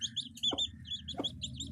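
A chicken clucks and squawks softly as it is caught, with a few short raised cries against a low, rumbling background.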